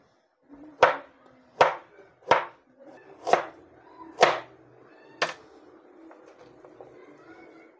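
A knife cuts through peeled radish on a board, six distinct, fairly close chops at an uneven pace, the later strokes lighter, with quiet kitchen background between them.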